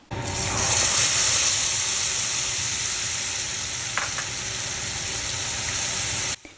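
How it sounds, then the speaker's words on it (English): Loud, steady sizzling of spice slurry poured into hot oil for cauliflower and potato curry, a dense crackling hiss that holds throughout with a brief tap midway. "mix the spice slurry and pour in and enjoy the sizzle"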